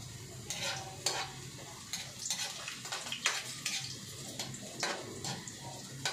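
Garlic and onion sizzle in a hot pan while being stirred, a steady frying hiss broken by sharp scraping strokes of a utensil against the pan, close and fairly quiet.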